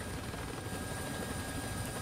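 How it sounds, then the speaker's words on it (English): Helicopter engine running steadily in the War Thunder combat game, a continuous loud rotor and turbine drone with no talk over it. "all I can hear is this dead helicopter next to me because his engine is still running"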